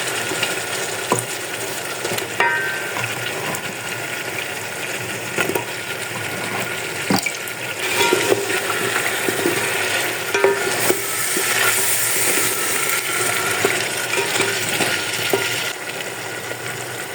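Half a kilo of potatoes frying with green chickpeas in oil for aloo pulao, a steady close sizzle with frequent spoon stirring and occasional clinks against the pot, no talking.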